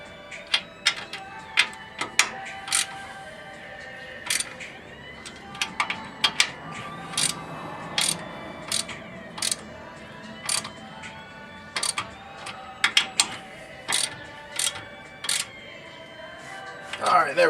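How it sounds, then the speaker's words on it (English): Wrench ratcheting on the upper ball joint bolts of a 1992 4Runner, close sharp clicks in quick bursts and single ticks spread across the stretch, over a quiet background. "Now I'm gonna tighten them down."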